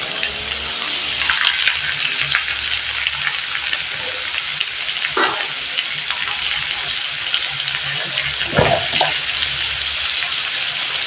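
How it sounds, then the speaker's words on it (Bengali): Chopped carrot and capsicum fry together in a pan for pasta in white sauce, giving a steady, loud hiss with a few brief louder crackles and no talk. "গাজর ক্যাপসিকামটা আমি একবারেই ভেজে নেব।"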